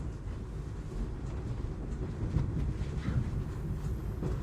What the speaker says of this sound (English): The sound of the train gets a little louder as you are able to hear the train outside.